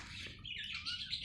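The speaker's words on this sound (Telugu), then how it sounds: "ఇక్కడ హంసలు ఉన్నాయి, పౌరాలు ఉన్నాయి, లవ్ బర్డ్స్ ఉన్నాయి" Birds such as parakeets and lovebirds let out short, shrill squawks and chattering calls, close by but fairly faint, in a quick overlapping burst.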